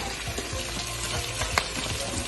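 Chopped capsicum tossed into hot oil in a frying pan, a steady soft sizzle with light stirring scrapes and a brief clink, fairly quiet and close.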